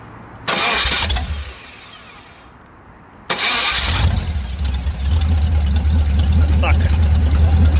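A ZMZ V8 engine cranks and fires, falls back briefly, then starts again and settles into a steady, loud idle with a deep low rumble close by.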